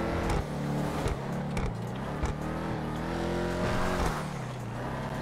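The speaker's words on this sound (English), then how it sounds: "the pops and crackers from the exhaust seems to be pretty amazing" A McLaren 675LT supercar in the GTA 5 video game holds a loud, sustained engine note that rises and falls. Brief crackling pops from the exhaust break through on the shifts, all close and dense.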